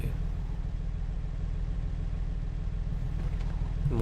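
A parked car idles steadily in a Half-Life game map, its engine a low, even rumble that continues unbroken, with a brief sharper sound near the end.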